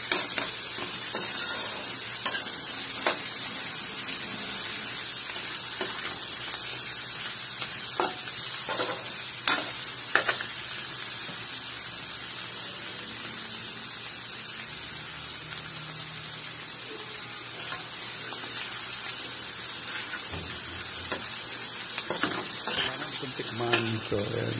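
A dish is stirred and fried in a pan, steady sizzling hiss under repeated scraping strokes of a utensil throughout, fairly close, with no talking.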